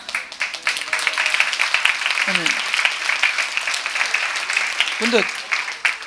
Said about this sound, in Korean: 박수는 왜 치는 거예요 지금?